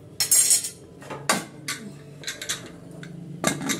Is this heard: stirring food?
yes